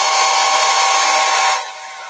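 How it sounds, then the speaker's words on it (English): A loud, close hair dryer blows on a chalk-decorated craft piece with a steady whooshing hum, then drops to a lower setting or fades near the end. "And then I'll hit that with the dryer too."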